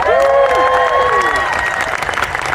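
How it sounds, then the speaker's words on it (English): A concert audience at a show at the Alameda fairground applauds and cheers for the piano player, the clapping steady and loud with stage music tones sustained over it. "Big round of applause for Mirko"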